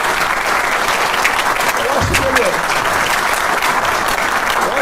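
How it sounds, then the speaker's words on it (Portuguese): An audience bursts into loud, sustained applause at a speech event at a graphene research center, with voices mixed into the clapping throughout. "Eu peço a salva de palmas"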